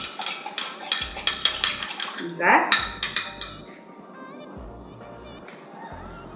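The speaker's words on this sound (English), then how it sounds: "I like to whisk this with a fork" Rapid metallic clinking of a fork whisking salad dressing in a bowl, quick rhythmic strokes up close, with a voice speaking briefly before the clatter tapers off.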